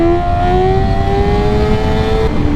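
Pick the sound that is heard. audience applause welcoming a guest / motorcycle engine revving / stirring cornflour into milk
motorcycle engine revving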